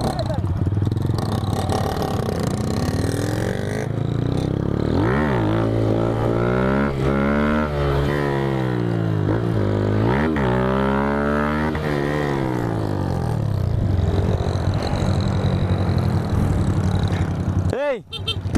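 A motorcycle engine runs and revs continuously up and down, loud and close, with rising and falling pitch sweeps as a rider practices wheelies, ending in a clatter.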